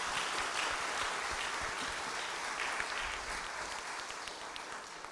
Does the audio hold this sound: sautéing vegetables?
no